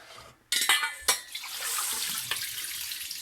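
Rice being washed in water for fried rice, a sudden rush of water with sloshing and clinks of a pot, then a steady splashing wash that carries on close and moderately loud.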